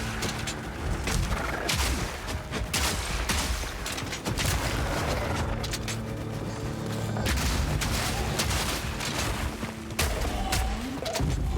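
Fragmentation round grenades in Path of Exile 2 go off in dense, constant blasts over a busy combat soundscape, with loud booms and crackling debris and no pause.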